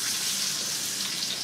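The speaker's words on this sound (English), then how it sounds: "I just let that go ahead and sear on the outside." Monkfish searing in a pan with brown butter basting it: a dense, steady high sizzle, close and continuous, with no pauses.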